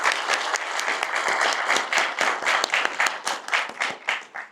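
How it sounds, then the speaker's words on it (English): An audience at a youth graduation ceremony claps in a round of applause for two police officers, a brisk burst of many hands that rises, holds and then tapers off with a few scattered claps. "give them a round of applause for Officer Rubio and Officer Reyes"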